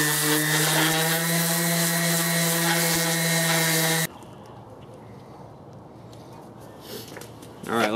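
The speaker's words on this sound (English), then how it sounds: "maybe I will quickly take a sander to this plate and see if I can get it to take off all the paint" Power sander working the painted surface of an aluminum plate, a loud steady whining grind for about four seconds that cuts off abruptly, leaving quiet room noise with a few faint knocks.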